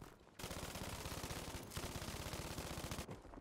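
Sustained automatic gunfire in Battlefield V hammers in a fast, steady rhythm for about three seconds, loud and close, with a short break midway and no talking.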